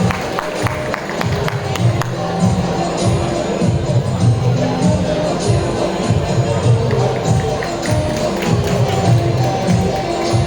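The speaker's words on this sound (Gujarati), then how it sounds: "ખૂબ તાળીઓથી વધાવી લઈશું." Audience applause at a school annual function, a dense steady roar of clapping and crowd noise with cheers and children's voices mixed in, continuous throughout.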